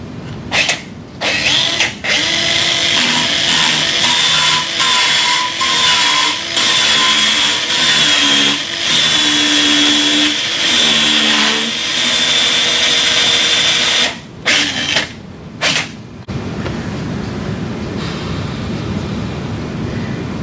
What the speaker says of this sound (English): Take the appropriately sized radial surface reamer and drive it over the guide pin